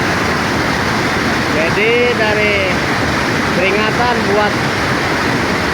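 The swollen Citerep river rushes after heavy rain in a loud, unbroken roar of churning water, with someone speaking over it.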